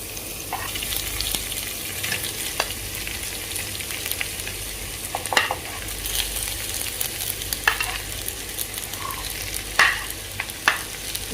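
Boiled rice and vegetables stir-fried in a pan for chicken fried rice, a continuous close sizzle broken by repeated spatula scrapes and knocks at irregular intervals, with no one speaking.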